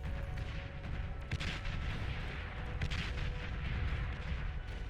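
Pounder defense turrets fire at a commander unit in the real-time strategy game Beyond All Reason, heard as a dense, continuous barrage of booming cannon shots and explosions at steady loudness. No speech.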